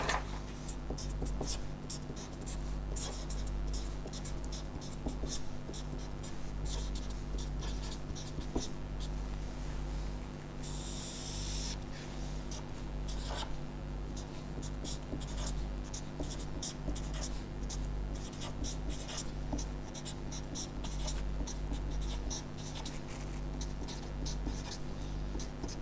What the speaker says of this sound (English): So, let me straight away now draw.